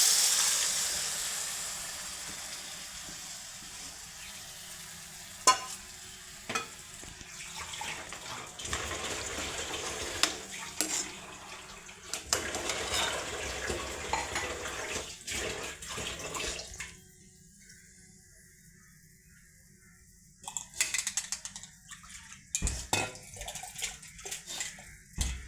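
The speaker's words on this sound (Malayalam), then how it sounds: "പുളിവെള്ളം ഒഴിച്ചു കൊടുക്കാം." Tamarind water is poured into a hot pan for green rasam, giving surging hissing splashes that rise and fall in several bursts with quiet pauses between them over about twenty-five seconds.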